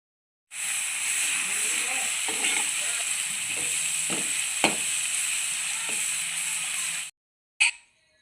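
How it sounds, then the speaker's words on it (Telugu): Ginger garlic paste frying in a pan makes a steady, loud broadband sizzle for about six seconds, with a few scraping stir strokes, before it cuts off and gives a brief final burst. "నెక్స్ట్ ఇందులోకి అల్లం వెల్లుల్లి పేస్ట్ని యాడ్ చేసుకోవాలి. దీనిని పచ్చివాసన పోయే వరకు కలుపుతూ ఉండాలి."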